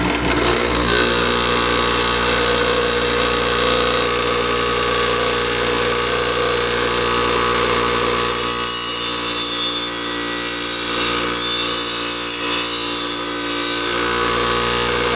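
An old bench grinder runs steadily while a mower blade is sharpened, a loud continuous whine and hum; about halfway through, a harsh high grinding rasp of metal against the wheel comes in and holds.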